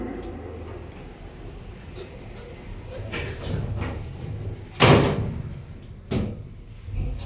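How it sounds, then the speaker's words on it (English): A lift door at the Dolphin Shopping Centre in Poole slides shut and lands with a firm slam near the five-second mark, followed by a softer second knock, amid faint mall ambience and low hum. "It's a nice slam on the door."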